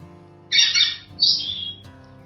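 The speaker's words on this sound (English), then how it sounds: "He was just a baby pigeon" Young rescued pigeon squawking loudly at close range in two rough, harsh bursts separated by a short pause, with no talking.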